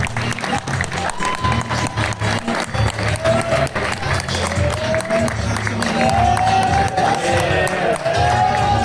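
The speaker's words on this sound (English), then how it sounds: "please give a warm round of applause for French Monsieur and Accident." An audience at a men's summit in Chicago breaks into sustained applause and cheering, a dense, steady crowd roar with scattered whoops, loud and continuous throughout.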